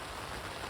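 Heavy rain drums steadily on a tent during a storm in the Italian mountains, a dense, constant patter with no voices.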